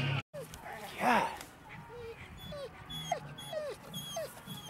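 American Bully XL at a bully show, whimpering in a run of short, high, rising whines with a louder yelp early on. The dog is close, with a crowd murmuring faintly behind it.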